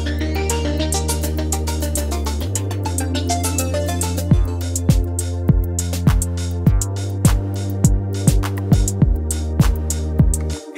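Electronic beat sequenced on a Yamaha Seqtrak in song mode, a sustained synth pad and bass progressing through pattern changes before punchy kick and percussion hits enter in a steady loud rhythm, with no talking.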